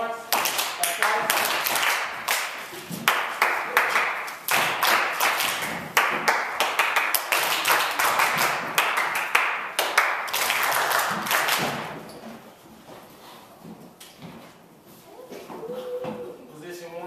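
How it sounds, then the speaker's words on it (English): Students seated at classroom tables clap together on instruction, producing sharp, loud, repeated claps in short bursts, and a voice talks between them before the claps thin out and quiet down. "Clap once. Clap once. Clap twice."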